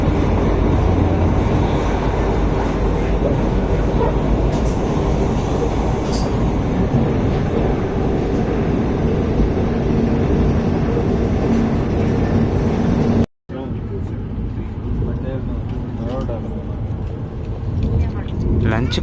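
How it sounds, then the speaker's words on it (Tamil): A Vande Bharat Express train running at over 125 km/h on the Madurai–Bangalore route, heard from inside as a loud, continuous rumbling roar with rail hiss, broken by one brief dropout. "ஸ்பீடா மீட்டர் எடுத்து செக் பண்ணால் தான் பார்த்தீங்கன்னா 125+ போயிட்டுருக்கு ட்ரெயின்"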